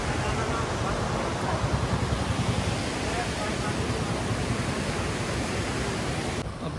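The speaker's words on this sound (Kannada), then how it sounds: "ನದಿ ಹೆಂಗೆ ಹರಿತಾ ಇದೆ." A river in Manali rushes beneath a bridge beside a cafe, making a loud, steady broadband roar of flowing water that fills the scene without pause.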